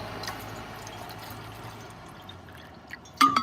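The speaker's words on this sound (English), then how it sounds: "Just going to fill up my bottle of water that I can carry." Water pours steadily into a carry bottle, making a soft, continuous trickle with gentle bubbling. It ends with a brief louder knock or splash.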